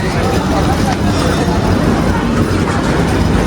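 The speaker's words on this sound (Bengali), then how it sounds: "ট্রেন আর এক দু মিনিটের মধ্যেই ছাড়বে" A busy platform at Howrah railway station, where a train's low continuous rumble sits under dense crowd babble and nearby voices talking.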